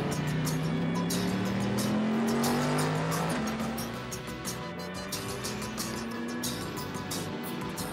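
Two yellow Corvette race cars run ahead of Vipers on a circuit. Loud engine drones climb in pitch as the cars accelerate past, layered and sustained, with a faint squeal.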